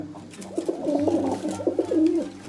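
Pigeons about to be released give a low, rolling coo up close, a sustained warbling call that swells and repeats over a quiet background.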